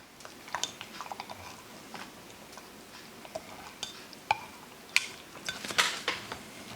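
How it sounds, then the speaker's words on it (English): A metal utensil stirs a 2020 Russian winter ration in its container, giving close, irregular clinks, taps and scrapes, with a few sharper knocks near the end and no talking. "We'll take this and give her a little stir."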